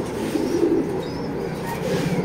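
Racer pigeons coo in low, soft, repeated throaty calls close by, with a faint background hum underneath.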